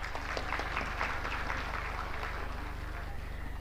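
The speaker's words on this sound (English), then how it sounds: "Yes, you can clap" An audience at a school annual report event claps steadily in a continuous, moderately loud wash of applause over a low, constant electrical hum.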